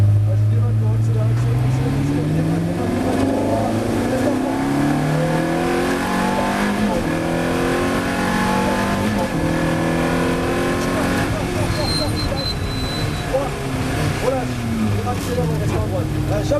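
Ferrari F430 Challenge race car accelerating hard on a track, engine climbing through rising gear sweeps with shifts between them, loud and close, while a person talks over the engine.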